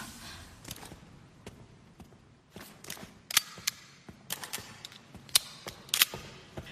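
A gun is reloaded in the video game Resident Evil Requiem, with sharp metallic clicks and clacks of magazine and slide work spaced irregularly over quiet, low background hum, several crisp snaps standing out near the end.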